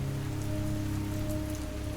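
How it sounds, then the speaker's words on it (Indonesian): Heavy monsoon rain pours steadily in Cherrapunji, India, a dense, unbroken hiss of drops drumming on surfaces, loud and close with no pauses or voices. "Suara hujan menjadi latar yang konstan"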